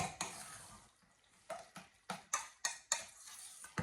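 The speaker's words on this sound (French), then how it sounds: "On mélange bien." A spoon mixes the ingredients of a quick three-ingredient leftover recipe in a bowl, making a quiet run of about seven rhythmic scraping clinks close by, with no voices.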